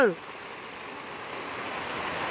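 Rain falls steadily outdoors, a soft, even hiss that continues throughout after a brief voice at the very start.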